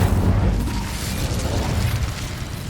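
An Incendio fire spell in Hogwarts Legacy bursts with a loud, rumbling whoosh of flame, a dense low roar that swells at once and slowly thins out, close and alone.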